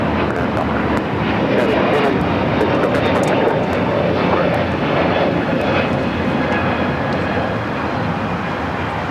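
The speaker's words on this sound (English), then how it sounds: "We have a United A321 Neo taking off here on the south side." A United Airbus A321neo takes off from the south side at LAX with a loud, steady jet engine roar that lasts the whole time. Faint talk can be heard now and then under the roar.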